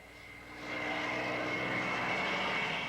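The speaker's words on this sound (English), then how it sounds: "Suddenly, a Japanese Zero is spotted overhead." A Japanese Zero fighter plane passes overhead, its propeller engine droning up quickly from quiet to a loud, steady roar that holds to the end.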